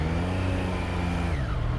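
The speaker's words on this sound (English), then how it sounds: "This is like being stuck in traffic." Engine hum of a Triumph Street Triple RS motorcycle idling and creeping through stop-and-go New York City traffic, a steady near rumble with surrounding vehicle noise and a falling tone near the end; no talk.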